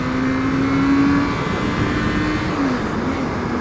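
A motorcycle engine held at pinned throttle while riding, a steady loud droning roar with a faint whine, continuous and close throughout; no talking.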